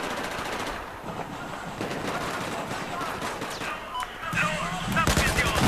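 Rapid automatic gunfire in Battlefield 4 multiplayer combat, dense bursts rattling through the mix with game noise, growing louder toward the end, with someone talking over it.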